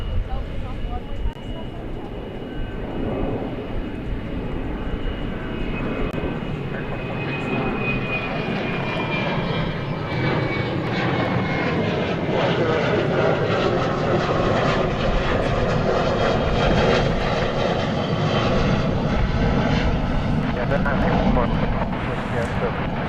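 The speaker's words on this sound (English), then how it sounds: "So it looks like the go-around is involving American Flight 2465 to Santa Ana" American Airlines Flight 2465, a jet on the Santa Ana route, performs a go-around at DFW Airport with a loud, sustained engine roar and a thin whine that slowly falls in pitch, the sound swelling steadily as the aircraft climbs away.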